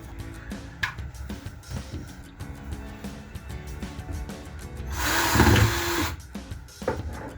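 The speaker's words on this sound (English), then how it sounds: "is screwing it in through the base of the layout" Power drill driving a screw up through the wooden base of a model railway layout, a steady whirring buzz that swells loudest near the end amid rattling and knocking from underneath.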